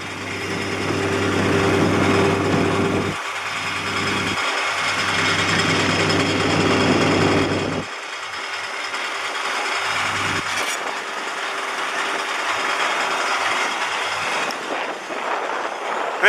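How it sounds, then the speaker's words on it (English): A BBI fertilizer spreader's spinner deck and chain drives run in a steady, loud mechanical drone, nearby and alone, easing to a lighter, rattly hum partway through. "Listen to the spinner deck and the chain drives."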